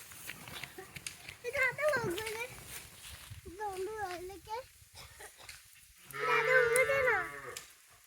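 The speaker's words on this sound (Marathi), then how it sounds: "यशावांचा बैल" A bull lows several times in a Konkan village while cattle are driven to the shed, drawn-out wavering calls with pauses between, the last one longest and loudest, over faint background talk and rustling.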